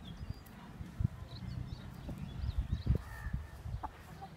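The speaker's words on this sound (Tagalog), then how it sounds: "Ayan na yung mga manok namin, no." Hens cluck and murmur nearby in a low, scattered chatter, with some scratching and soft thumps in the background.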